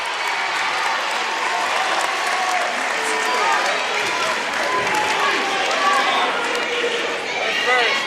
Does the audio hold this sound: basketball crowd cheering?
yes